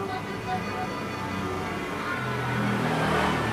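Street traffic in Moscow, a continuous moderate hum of cars that swells slightly toward the end, with no close voices.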